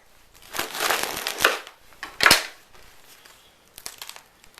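Crisp crunching bursts as a knife saws through the crispy crust of a freshly baked homemade loaf, several close, sharp crackles in irregular strokes with a quieter pause between them.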